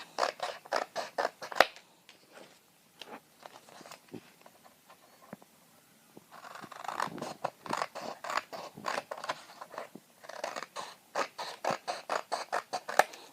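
Scissors snip through two layered sheets of paper along marked lines, with quick rhythmic cuts in two runs separated by a short pause, close and crisp with no talking.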